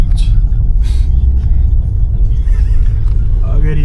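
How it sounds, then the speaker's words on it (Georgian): A newly arrived car pulls up in Poti, Georgia, its engine rumbling low and loud and close throughout, with people talking over it. "აგერ ირაკლის მანქანა."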